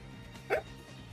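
An old dog makes a single short hiccup-like sound, brief and fairly near, against a quiet background with no talk.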